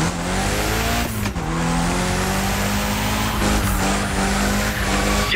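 Loud, continuous car engine roar with tires squealing and skidding through a sustained drift in the racing video game The Crew Motorfest, the revs rising and holding steady, with no talking.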